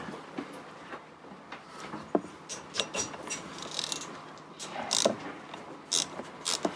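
A small Allen key tightens the shaft key lock on a Jabsco raw-water pump aboard a sailboat, giving faint metallic ticks and scrapes over low background noise.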